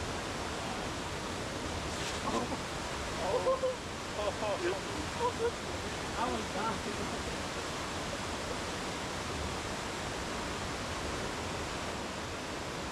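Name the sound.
creek waterfalls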